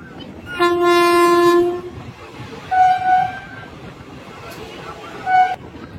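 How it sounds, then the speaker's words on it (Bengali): A train horn blares in long sustained tones, followed by two shorter honks, amid the hum of a busy station platform. "ট্রেন এই মুহূর্তে প্ল্যাটফর্মে দিয়ে দিয়েছে 12 নম্বর প্ল্যাটফর্মে"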